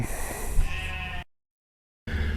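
Sheep bleat loudly and close by on a pasture-based sheep farm, with a long drawn-out call that cuts off into silence before more bleating starts again.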